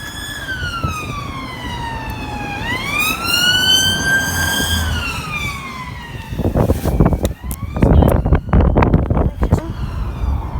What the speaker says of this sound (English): Oh my god, it's sirens, it's police.